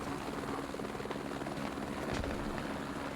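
A Canadian helicopter in the video game Squad makes a steady rotor thump and engine drone, moderately faint and continuous, with no voices over it.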